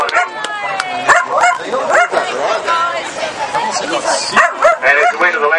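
Dogs at a flyball-style relay race bark and yip excitedly in rapid, overlapping bursts, mixed with crowd chatter and an announcer talking over the busy scene.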